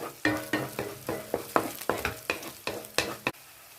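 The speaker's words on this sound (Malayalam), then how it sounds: "ഇഞ്ചി വെളുത്തുള്ളി പേസ്റ്റ് പച്ചമണം മാറുന്നവരെ നന്നായിട്ട് വഴറ്റണം." Ginger-garlic paste with green chillies sautés in a pan for kadai paneer: a spoon scrapes and stirs in a steady rhythm of about eight strokes over a continuous close sizzle, with no talking.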